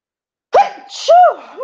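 A woman sneezes once, a sharp sudden burst after silence, followed closely by short voiced sounds that trail off.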